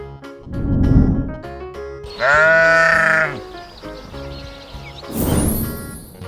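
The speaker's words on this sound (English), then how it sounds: "Sheep." A sheep bleats once in a long, wavering, nasal cry, loud and close, set between a spoken word before and another after it.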